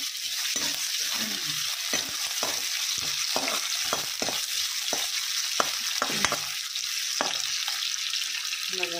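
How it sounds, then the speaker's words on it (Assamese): Potato pieces and tomato fry in a hot pan with a continuous bright sizzle, broken by repeated scraping and stirring clicks of a utensil at irregular intervals, close and clear throughout. "এইখিনিতে ফ্ৰাই কৰি ল'ম।"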